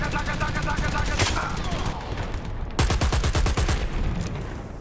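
Rapid bursts of machine gun fire from a video game match, loud and rhythmic, with a second dense volley starting about midway and continuing to the end while a commentator talks over it.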